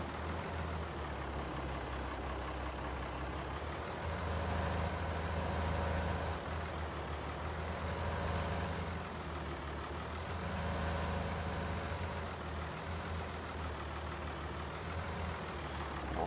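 An old Moline tractor engine idles in a farming video game, giving a low, steady mechanical drone with a slight pulsing rumble that carries on evenly throughout, heard alone without talk.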